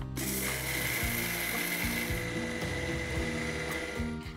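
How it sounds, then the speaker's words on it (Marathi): Mixer grinder grinding roasted poha into powder: a steady, loud whirring grind with a rattling, ratchet-like texture that runs throughout without pause. "आता मिक्सरमध्ये याची बारीक पूड तयार करूयात."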